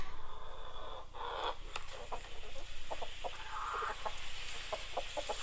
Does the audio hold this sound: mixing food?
no